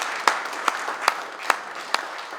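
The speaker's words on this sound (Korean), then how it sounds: "우리 사모님과 신 목사님 위해서 박수 한번 부탁합니다." A church congregation at a Korean thanksgiving service for a new general assembly president claps in unison, sharp accented beats falling about every 0.4 seconds over a continuous bed of scattered applause, loud and close.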